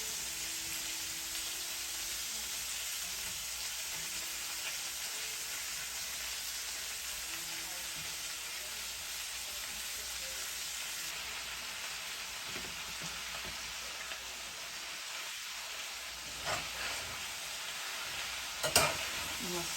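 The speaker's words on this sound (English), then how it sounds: "I'm going to stir it up a little." Cabbage and sausage fry in a pan while being stirred, a steady close sizzle throughout, with a few sharper scrapes and clicks near the end and no talking.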